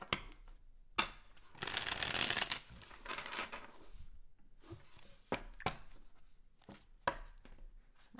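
A deck of tarot cards is shuffled up close: a long riffling rush of cards, then sharp taps and soft slaps as the deck is squared and cut, with no talking.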